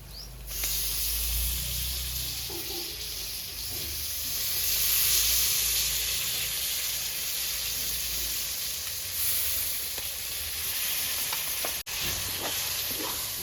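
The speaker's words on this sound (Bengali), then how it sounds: "ভালো করে মশলাটাকে কষিয়ে নিতে হবে" Masala for a Bengali vapa chicken, with turmeric and tomatoes, fries in a pan with a continuous moderate sizzle and hiss, a few faint stirring knocks rising through it near the end.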